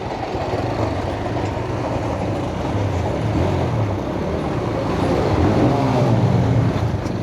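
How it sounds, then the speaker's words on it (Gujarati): A train rolls past, a continuous heavy rumble and rattle of wagons that holds steady and swells slightly louder toward the end, with no voices. "પર જો કેવી ટ્રેન જાય છે."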